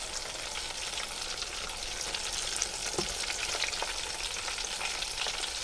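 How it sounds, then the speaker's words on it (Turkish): Steady, dense sizzling of courgette (zucchini) half-frying in hot oil, continuous and close, with a faint stir or clink partway through. "Şimdi böyle yarı kızartma yapıyorum bu şekilde."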